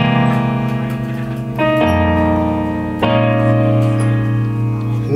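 Piano sounds the four verse chords of a song, sustained chords changing at intervals, full and close with ringing decay, played alone.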